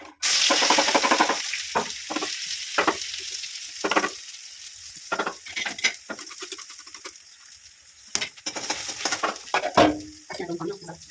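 Onion fries and sizzles in a kadai as it is stirred, with a loud opening hiss followed by intermittent crackling bursts and scraping stirs separated by short quiet gaps.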